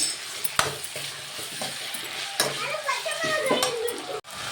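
Green chilies sizzle steadily in a hot pan while being sautéed, with close scraping and clinking as a utensil stirs them against the metal.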